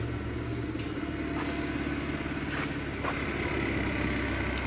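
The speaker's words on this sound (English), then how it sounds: "Engine runs nice and smooth." A 2015 Buick Regal with a 2.0L engine idles steadily nearby, a smooth, even low hum with a faint high whine and no talk over it.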